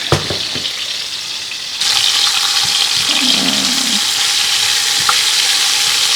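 Pasta boiling and being stirred in a pan on a stovetop gives a steady close sizzling bubble, with scraping stir sounds and a louder surge partway through.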